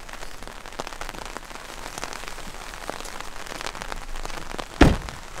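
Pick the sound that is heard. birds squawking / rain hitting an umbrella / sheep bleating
rain hitting an umbrella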